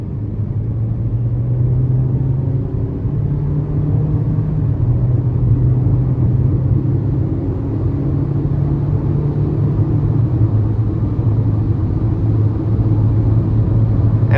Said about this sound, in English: But let's give it a little throttle here.